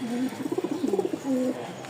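Rajshahi Giribaz pigeons, a red pair, coo softly nearby in a short rolling series of throaty pulses, with a steady low coo trailing at the end.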